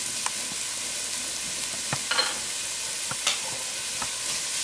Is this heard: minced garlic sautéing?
yes